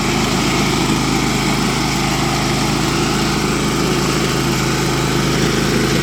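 A Honda lawn mower engine runs steadily at close range, a loud continuous drone with a low vibrating rumble, holding an even pitch throughout with no talk over it.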